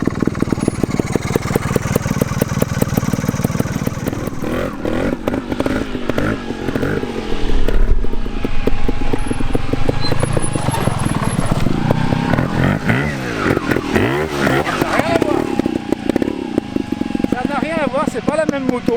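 A Vertigo Nitro 250 trials motorcycle engine runs close by, with a steady buzzing drone that blips and rises in short bursts of throttle, under continuous talking.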